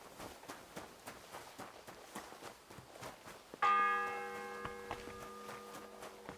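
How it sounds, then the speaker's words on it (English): A church bell in the medieval Kingdom Come Deliverance 2 video game strikes once with a bright, ringing tone that lingers and decays, following a stretch of soft footsteps in the game. "Ninth bell. Only 3 to go."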